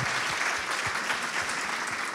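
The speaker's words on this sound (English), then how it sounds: "It was starting an applause right here" Dense, steady applause from a large audience at a human rights and global peace talk, a continuous wash of many hands clapping at even loudness, without any voice rising above it.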